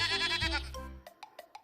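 A goat bleats in an animated folk tale, with a long wavering cry near and loud, followed by a few short, fainter bleats.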